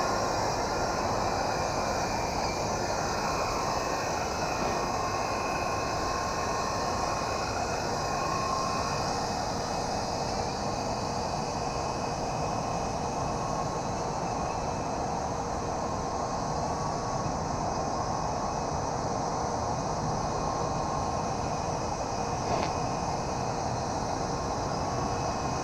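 A Toyrus RC toy helicopter flies outdoors with a constant buzzing motor whine blended into steady wind rush, continuous and unbroken for the whole stretch.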